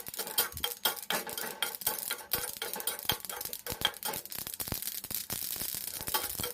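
White sesame seeds are stirred in a pan with a utensil, producing a dense, continuous scraping and rattling with faint crackle throughout, fairly quiet and close.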